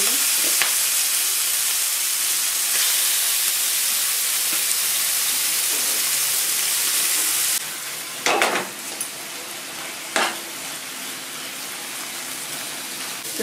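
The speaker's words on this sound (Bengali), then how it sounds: "এবার আমি এই ফ্রাই প্যানে চিংড়ি মাছটা ভেজে নেব সামান্য তেল দিয়ে" Prawns coated in turmeric frying in a little oil in a hot frying pan, a steady close sizzle that runs without a break and falls quieter partway through, with a few soft clinks and stirs.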